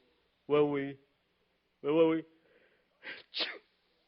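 Two drawn-out voiced calls, then two quick sharp bursts like a sneeze, close and clear against silence, in a radio comedy.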